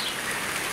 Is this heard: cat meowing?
no